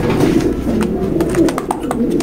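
A female pigeon in a loft coos loudly and close by, a run of soft rolling coos that repeat over the short stretch.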